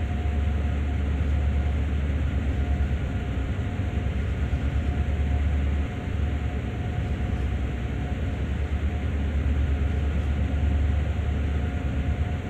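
A long train rolls along the track in Train Sim World, giving a steady loud rumble of wheels and engine drone with no talk over it.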